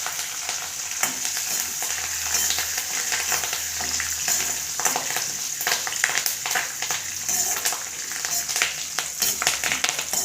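Curry leaves and garlic crackle and sputter in hot oil, a loud, continuous sizzle with sharp popping bursts and occasional stirring, with no talking.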